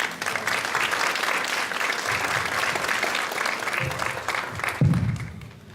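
An audience at a Veracruz social development event applauds to welcome a speaker. Dense, steady clapping carries on for several seconds, with a thump near the end before it fades out.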